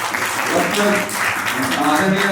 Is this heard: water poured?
no